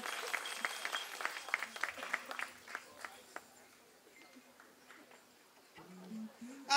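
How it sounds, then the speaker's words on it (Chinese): Audience applause for the drummer at a live concert at Tiehua Village: a burst of clapping that thins out and fades over several seconds, ending in a quieter stretch with a brief tone near the end. "我们再给鼓手掌声鼓励一下"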